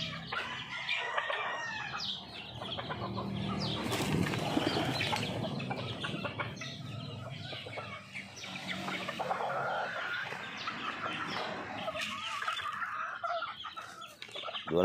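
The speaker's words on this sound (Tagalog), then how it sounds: "Dinumog na ng ibang manok." Several chickens cluck and squawk busily close by, with occasional wing flaps and a rooster's crow, in a lively outdoor flock.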